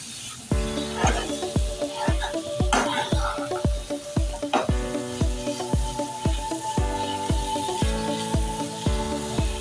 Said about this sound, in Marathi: आता आपण यात घालूया खिमा. हे छान एकजीव करून घ्या.